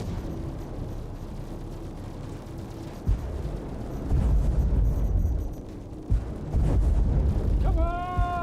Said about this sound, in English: Oh boy, they're firing tons of missiles at us.